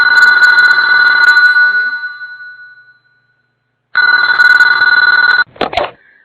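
An old-style telephone bell rings loudly in two long bursts, the first fading out, then a second ring cut off by a few short clattering knocks, with no talk over it.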